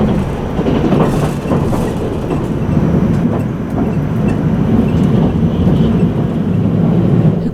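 Haruka limited express to Kansai Airport picking up speed on a freight line in Osaka, heard from inside the carriage: a steady loud rumble with rhythmic wheel clatter over the rail joints, with no voices.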